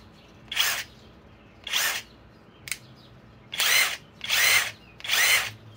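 A SKIL mid-torque cordless impact wrench running in nut-busting mode, five short bursts of whirring and hammering with a brief blip in the middle, separated by quiet pauses, close by.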